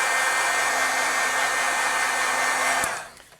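A craft heat tool blows steadily while heat-setting stamped ink on paper, a loud, even whoosh with a faint electric hum that holds for nearly three seconds, then cuts off abruptly, with no talking.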